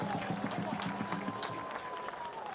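Crowd applause and cheering fill a stadium at an NCAA college soccer match between Pitt and Maryland after a goal, a steady broad roar with clapping under a commentator's voice.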